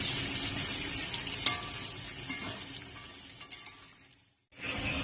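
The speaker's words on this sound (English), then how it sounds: "I have fried the potatoes and added some sliced onions and I'm frying it together" Potatoes and sliced onions fry together in a pan with a soft, close sizzle, a few clinks of stirring, and a brief drop to silence near the end before the sizzle returns.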